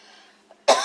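A single sharp cough bursts out close and loud after a brief quiet moment in a home kitchen.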